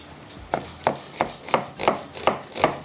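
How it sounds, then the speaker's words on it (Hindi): A knife finely chopping onion on a cutting board, seven evenly spaced, crisp chops about a third of a second apart, close and clear with no talking. "बस प्याज को थोड़ा सा बारीक करके डाल देते हैं, चॉप करके।"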